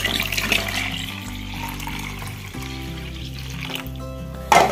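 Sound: water poured into a one-litre paint bucket

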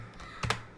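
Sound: typing a command on a computer keyboard

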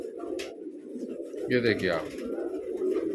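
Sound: pigeons cooing

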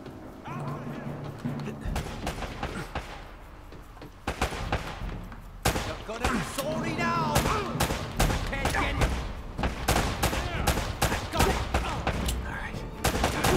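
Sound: gunfire in video game Uncharted: Drake's Fortune

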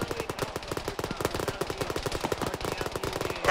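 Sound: PKM heavy machine gun firing in a video game (Arma)

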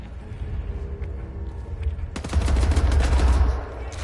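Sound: carbine gunfire in Wolfenstein video game

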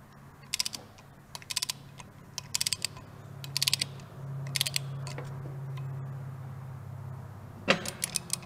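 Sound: torque wrench tightening rear sprocket on Harley Sportster

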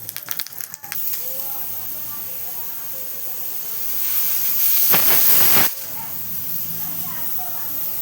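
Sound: pressure cooker whistle releasing steam

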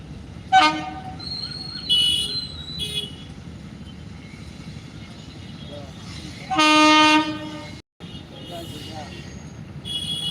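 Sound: train passing and sounding horn

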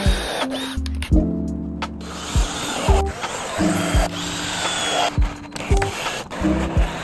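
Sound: power drill drilling pilot hole in wood

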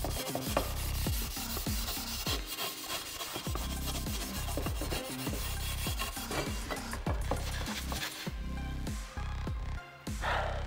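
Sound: sanding sheet metal

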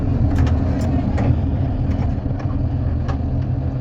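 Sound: lifeboat engine starting

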